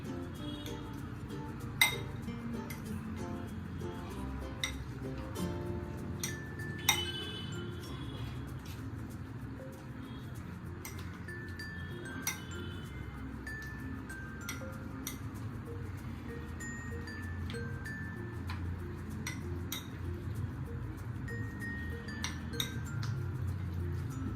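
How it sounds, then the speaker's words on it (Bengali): A spoon stirs curd rice in a dish, giving scattered light clinks and taps against the bowl over a steady low background hum, with no talking. "এবার এটাকে আমি মিক্সড করে নেব ভালোভাবে।"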